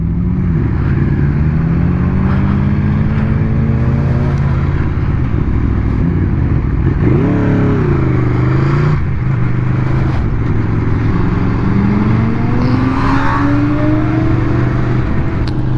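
New Aprilia motorcycle being ridden on the road, a loud continuous engine drone with rising and falling pitch as it accelerates and shifts gears, wind roar underneath, no talking.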